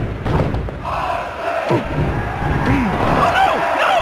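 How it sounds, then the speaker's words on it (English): Roaring crowd in the WWF Attitude wrestling video game, loud and continuous with thuds and slams from the ring and shouting voices mixed in. "This crowd is all pumped up."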